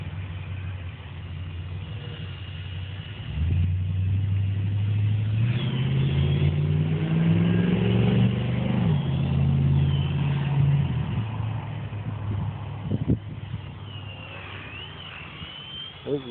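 MCPX RC helicopter with a weak motor and weak battery, its whine steady and close, then dropping and sagging in pitch as the motor bogs, with a voice talking over it.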